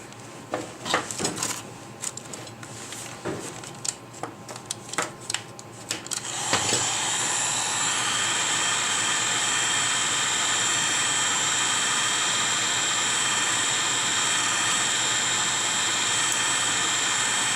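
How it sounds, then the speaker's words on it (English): A heat gun starts up about six seconds in and blows a loud, steady hiss of hot air onto heat shrink tubing. Scattered clicks and handling noises come before it. "Go ahead and grab the heat gun here."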